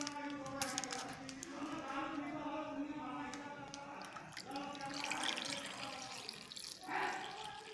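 Milk poured over a valampuri conch shell, a steady liquid trickle and splash with drips, heard under a voice speaking nearby.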